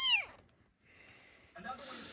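A stray young kitten gives a short, high, close meow at the start, then quiet, followed by faint soft indoor sounds.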